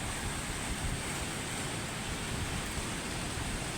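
Heavy rain and wind from Typhoon Kristine in Ortigas, Manila, a constant loud broadband roar with no breaks or voices.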